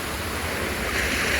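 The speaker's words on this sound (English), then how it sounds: "I hear rushing water." Water rushes from a broken water main in freezing weather, a steady loud broadband roar with no pauses.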